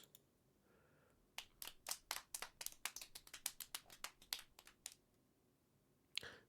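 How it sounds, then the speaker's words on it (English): In the video game Steins;Gate, thin, scattered clapping from a small number of hands at a lecture welcome, a few seconds of uneven claps that taper off, then one last clap. "Please welcome him with a big round of applause."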